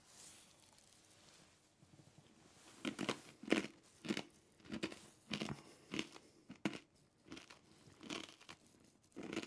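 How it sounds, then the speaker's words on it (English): Corn Nuts being crunched and chewed up close, a run of loud, irregular crisp bites and grinding chews following one another with brief pauses between them, no talking. "let's start with the Corn Nugs"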